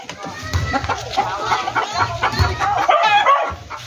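A pullet hen clucks repeatedly at close range before laying an egg, with rooster-like fowl calls and farmyard noise mixed in and a voice speaking briefly in the background.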